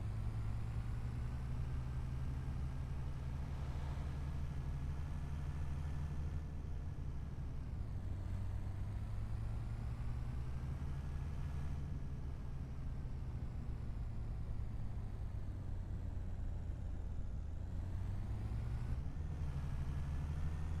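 Truck engine in Farming Simulator 25 drives with a steady low droning hum that rises and falls slightly in pitch, loud and continuous, with no talk over it.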